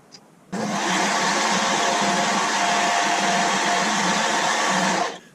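Milling machine cutting a steel engine cam profile on a rotary table, a steady loud broadband whirring cut that starts abruptly, holds evenly for about four and a half seconds, then stops.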